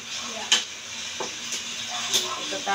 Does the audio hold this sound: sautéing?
yes